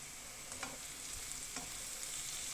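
Salted vegetables being stirred in a pan just before cabbage goes in, giving a low steady sizzle broken by a few short scraping clicks of the utensil.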